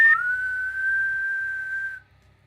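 A person imitates a whistle with a single steady, clear whistled tone held for about two seconds after a brief rising start, then cutting off, with faint low background murmur beneath.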